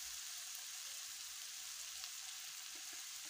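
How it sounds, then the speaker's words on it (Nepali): Egg fried rice with buffalo meat, carrot, radish and onion fries in a pan, a faint but steady, even sizzle with no breaks and no talking. "फ्राई राइस भुटुवा भात बनाउँदैछु है हजुर"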